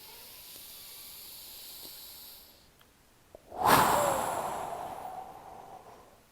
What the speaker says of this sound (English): exhale forcefully through the mouth